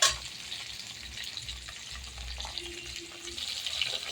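Hilsa fish frying in a pan for a poppy-seed and mustard hilsa dish, with water poured in, giving a steady close hiss and sizzle that rises toward the end.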